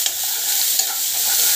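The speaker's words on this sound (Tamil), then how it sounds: "ஸோ நல்லா வந்து வதக்கிட்டுருவோம்." Onion and bell pepper sautéing with wheat noodles in a pan, a loud continuous sizzle with stirring scrapes mixed in, close and without voices.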